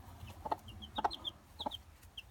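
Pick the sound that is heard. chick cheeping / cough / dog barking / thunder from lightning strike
chick cheeping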